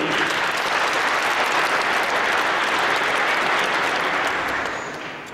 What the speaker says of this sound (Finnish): Aplodia tälle